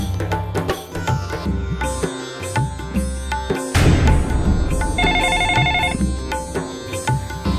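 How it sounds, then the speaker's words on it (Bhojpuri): An incoming call from father rings on a phone in a Bhojpuri comedy short film, a pulsing electronic ringtone that rises midway through over steady background music. "पापा का फोन आ रहा है।"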